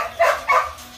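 Belgian Malinois dogs at a breeding kennel give two sharp, close barks about a third of a second apart, with no talking.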